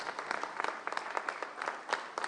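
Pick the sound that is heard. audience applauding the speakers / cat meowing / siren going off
audience applauding the speakers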